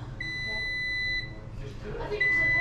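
A coin-operated machine near Gibraltar gives out a steady electronic beep, which stops and then comes back as a second tone, with voices and background murmur underneath.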